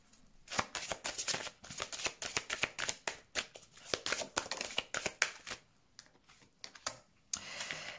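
Tarot cards being shuffled and drawn by hand, a rapid run of close, crisp riffling and slapping bursts in an irregular rhythm, with no talk.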